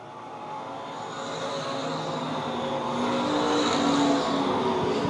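Stock cars racing around a speedway track at a USRA modified and stock car main event, a steady dense engine roar that slowly swells louder as the pack draws nearer.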